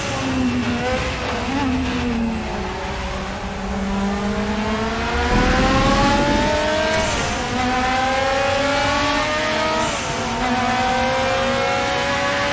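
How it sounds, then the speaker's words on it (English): Group 5 race car in the Raceroom sim at Bathurst, its turbocharged engine revving steadily up and down through gears for the whole stretch, loud and close with a brief rougher burst midway. "Listen to that engine."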